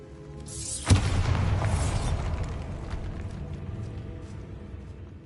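A Bombarda blast spell goes off in Hogwarts Legacy on PS5, a sharp booming explosion near the start that rolls into a long rumbling, crackling decay fading over several seconds.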